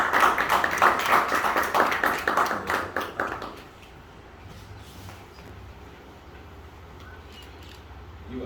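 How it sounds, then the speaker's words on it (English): An audience claps for Nazmol Hussein at a regional facilitation center event, a fairly loud burst of scattered hand claps that lasts about three and a half seconds, then stops abruptly and leaves quiet room noise. "Clap for him"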